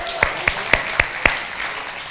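A church congregation at a Saturday worship service claps hands together in five sharp, evenly spaced beats, fairly close and clear, then falls quiet.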